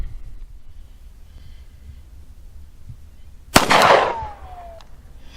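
A single sharp shot from a Hi-Point .45 pistol at an outdoor range cracks out after a quiet stretch, with a short echoing tail fading over about a second.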